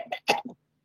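A woman in a regressive hypnosis session gives a short, rough throat-clearing cough in three quick bursts, close and moderately loud, and then falls silent.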